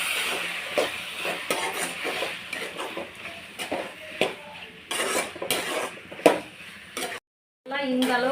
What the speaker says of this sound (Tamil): இந்த அளவுக்கு பச்சை ஸ்மெல் போகிற வரையிலும் நல்லா வதக்கணும்.